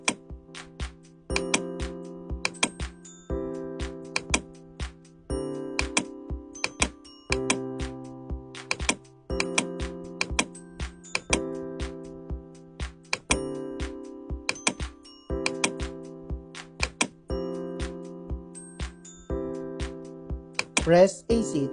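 Calculator keys are pressed to enter values, giving rapid clicky taps in quick runs, each paired with short electronic beeps of varying pitch, close and fairly quiet throughout.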